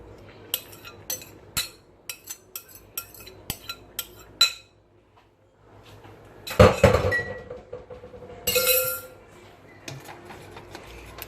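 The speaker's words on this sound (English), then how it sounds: "I want to stir in these cabbages." Utensil clinks and scrapes against a pot while cabbage and vegetables are stirred in a home kitchen: a series of sharp metallic taps, a pause, then louder bursts of scraping and rattling.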